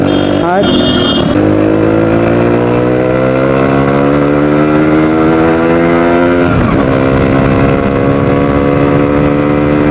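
A Suzuki Samurai motorcycle with a repaired engine runs loud and close, its throaty exhaust note revving and climbing steadily in pitch, then dropping briefly before rising again.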